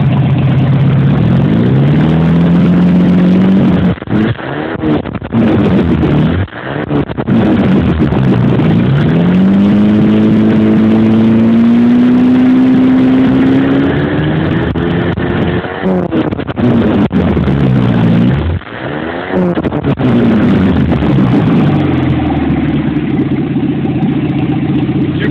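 A 1989 Chevy S10's 2.5L four-cylinder barking through an open header, loud and close, revving up repeatedly over a rough idle with brief drops between pulls.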